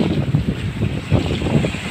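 Strong gusty wind by the sea during the southwest monsoon, buffeting the microphone in loud, uneven rushes with no talk.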